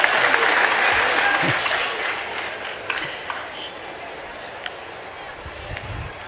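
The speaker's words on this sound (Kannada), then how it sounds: "ಚಪ್ಪಾಳೆ ತಟ್ಟಿದ್ದಾರೆ, ಅರ್ಧ ಜನ, ಬಾಕಿಯವರು ಸುಮ್ಮನೆ ಕೂತಿದ್ದಾರೆ," Audience applause at a humorous public speech by a speaker: a dense burst of clapping from part of the crowd, loudest at the start, then thinning and fading into scattered claps and room noise.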